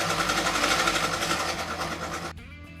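Sewing machine stitching a Rajasthani kurti, a fast steady mechanical rattle of the needle running for about two seconds before stopping abruptly, close and alone.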